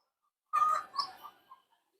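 A short burst of bird calls from pigeons at a rooftop loft, one brief close cluster of chirpy notes that fades within about a second, with silence before and after.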